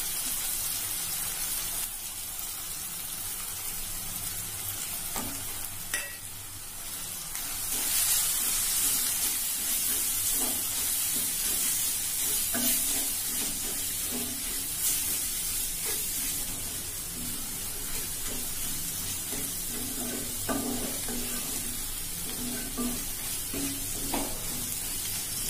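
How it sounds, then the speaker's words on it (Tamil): Masala powder is sautéed with softened tomato in a pan for prawn thokku, producing a steady close sizzle and hiss with repeated scraping stirs and occasional louder bursts, with no talk. "மசாலா பொடி போட்டு 2 நிமிஷம் வதக்கியாச்சு"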